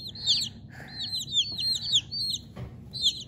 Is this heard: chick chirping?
yes